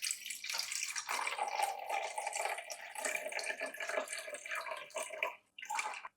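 Vinegar pours steadily from a bottle into a measuring cup in a home kitchen, a continuous close splashing trickle that runs for about five seconds before a short gap and a brief final splash.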